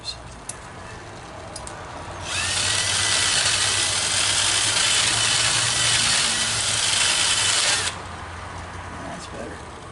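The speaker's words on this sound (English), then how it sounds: "I wonder if the wire wheel will actually do something different." A wire wheel on a power tool runs against metal, a loud, steady rasping whir that starts abruptly after a couple of seconds and holds for about six seconds before cutting off, with an engine idling low underneath throughout.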